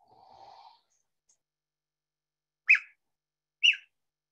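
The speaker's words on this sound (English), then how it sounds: "You might not have realized that cougars chirp like that, but they do." Two short, bright chirps spaced about a second apart after a brief breathy sound, otherwise quiet; the cougar calls, a mother and her adult young communicating on the Olympic Peninsula, stand alone and fairly close.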